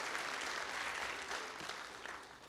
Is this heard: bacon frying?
no